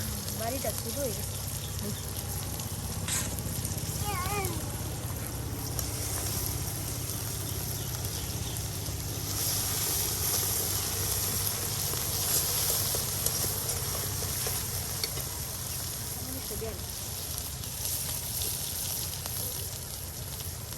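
Onion and garlic paste frying in oil for a traditional Mymensingh village dish, giving a steady broadband sizzle that runs the whole time beneath continuous conversation between women.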